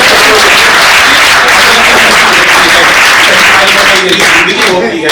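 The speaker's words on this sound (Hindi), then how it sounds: "मिल के एक बार तालियां बजाओ।" A crowd at a Haryanvi comedy and poetry show bursts into loud, dense clapping that runs the full length and thins slightly toward the end, with some voices mixed in.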